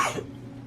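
A single close, loud human cough with a sharp burst that decays quickly, heard alone in a quiet indoor room with no talking.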